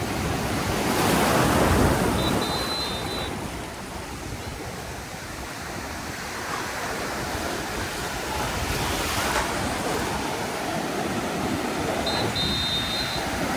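Ocean surf at Smiths Surf Beach on a hot late afternoon, waves washing in with a broad steady roar that swells near the start, mixed with wind buffeting the microphone and faint distant beach sounds.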